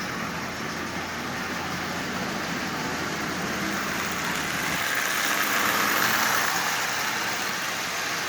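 Marx 1666 toy locomotive with a smoke unit, motor running after decades unused, giving a steady whirring buzz with faint rattling from the track, close and even throughout, no voices.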